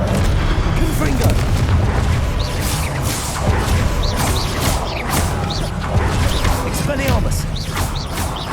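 Blasting-spell explosions in Hogwarts Legacy combat, deep booms and crashes amid dense, loud game effects, with a voice casting spells over the din.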